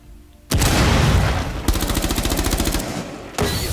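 Gunfire in Rainbow Six Siege: after a brief lull, a loud burst of shots erupts, then a rapid rattling automatic stream, ending with another sharp blast, close and without voices.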